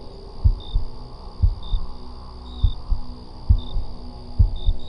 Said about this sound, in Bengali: আমার স্তম্ভিত বুকটা ঢিপ ঢিপ করতে লাগলো।